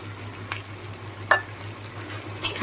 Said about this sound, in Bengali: এবার আমি বাটা মশলাটা অ্যাড করে নেব